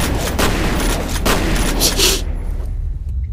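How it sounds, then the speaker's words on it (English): Gunfire in the shooter video game F.E.A.R., a loud dense burst of repeated shots and blasts that fills the first two seconds, then cuts off into a quieter low rumble. "Shot a random shell into the wall."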